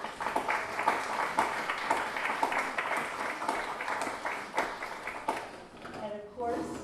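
Audience applause at a school board meeting, a steady patter of clapping from a roomful of people that fades near the end as a voice starts speaking.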